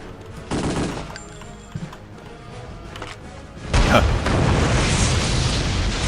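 A big explosion in the video game Return to Castle Wolfenstein: after some quieter gunfire and clatter, a loud booming blast erupts and rolls on as a sustained rumble until the end.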